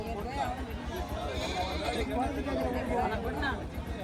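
A young goat bleats several times, thin wavering cries over a busy background of voices chattering nearby at a goat market in Manalmedu, Karur.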